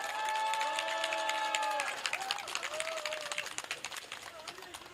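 Crowd at a political rally in Seoul breaking into sustained applause and clapping, loud and dense, with a voice speaking over it through a public address system.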